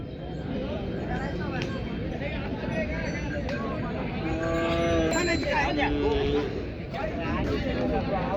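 Bullocks, including a pair of red Kandhari bullocks, mooing at a busy weekly Maharashtra cattle market, low calls rising over steady crowd chatter and speech noise throughout.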